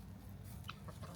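Backyard chickens peck at mustard greens from a garden, making a few soft, close clucks over a faint low background, short and quiet, with no talking.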